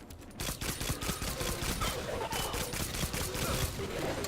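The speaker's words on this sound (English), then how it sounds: "This is an easy-to-use pistol." Rapid pistol fire in the video game Destiny 2, a dense run of sharp overlapping shots sustained from start to finish at steady loudness, close and alone.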